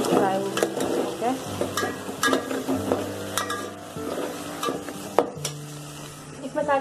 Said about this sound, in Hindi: अदरक फ्राई हो गया